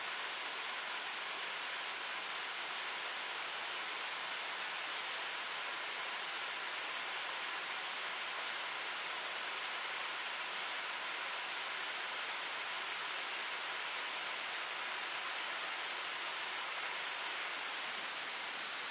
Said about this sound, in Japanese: 迫力ある岸壁を滝が流れるのは圧巻の風景